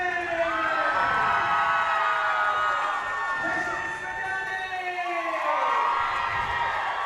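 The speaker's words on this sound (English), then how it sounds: "you hear the crowd getting warmed up for this Monument Valley girls basketball team" Crowd noise fills a gym as fans warm up for the Monument Valley girls basketball team, a steady loud roar of cheers and shouts running throughout with rising whoops.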